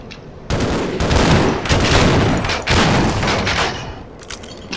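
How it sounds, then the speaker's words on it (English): Bursts of rapid gunfire in the Half-Life game rattle loudly for several seconds, close and heavy, then ease off into a quieter tail. "Someone's shooting at us"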